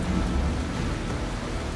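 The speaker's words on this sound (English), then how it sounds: "Unfortunately, it is raining," Steady heavy rain pours down with a low rumble of thunder underneath, a dense continuous wash of sound with no voices.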